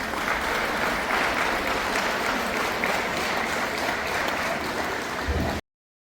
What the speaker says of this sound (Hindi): लोगों ने देखकर किस तरह से तालियां बजाई